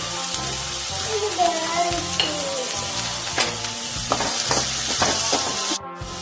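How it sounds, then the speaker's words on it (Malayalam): Chopped spinach stems fry in a hot pan with a loud, steady sizzle, broken by scraping stirs and a few clinks of a utensil, heard up close. "ഈ സമയം നമുക്ക് ആദ്യം തണ്ട് അരിഞ്ഞത് ചേർത്ത് കൊടുക്കാം."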